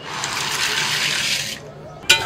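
Pasta tipped into a pot of boiling water seasoned with salt and oil, giving a steady rushing, bubbling wash of water that drops away near the end before a short clatter.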